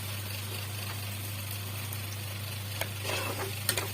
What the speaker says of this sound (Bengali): ঝিঙে আর বেগুন দিয়ে দিলাম।